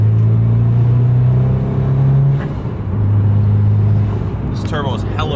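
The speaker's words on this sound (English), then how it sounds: "this turbo is hella responsive" A Mitsubishi Evo IV with a blown engine and a quick-spooling turbo accelerates in a loud, close, steady rumble from inside the car, its engine tone rising and settling, with a brief voice near the end.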